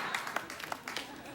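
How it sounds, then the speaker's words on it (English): A television studio audience on a late-night talk show claps briefly and fairly quietly, a thin patter of hands that fades within a second or so. "If ever applause ever sounded worried, there it is."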